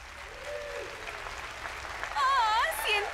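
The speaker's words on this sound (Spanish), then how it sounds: "¡Aplausos para el modelo número uno!" A crowd applauds with steady dense clapping throughout, while voices talk and exclaim over it near the end.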